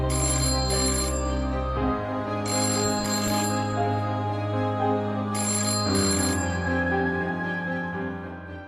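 A phone rings in repeated bursts of a bright electronic ringtone, three rising melodic phrases over a sustained tone, loud and close with no talking.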